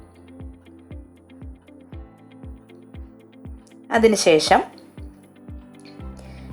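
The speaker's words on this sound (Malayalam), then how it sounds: "അപ്പോൾ 2 ടെസ്റ്റ് ട്യൂബിലേക്കും ഈ കെറോസിൻ ഞാൻ ഒഴിക്കുന്നു." Kerosene is poured into two glass test tubes in a chemistry lesson on solubility. The pour is a brief liquid splash under steady, regular ticking, with a voice speaking nearby.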